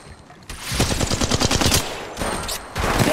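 Automatic gunfire from Apex Legends Mobile breaks out after a brief quiet moment, a dense rapid burst that rattles on with short gaps, loud and close.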